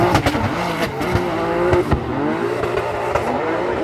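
A drift car slides through a run, its engine revving hard and rising and falling in pitch, with tire squeal and sharp bursts, loud and close.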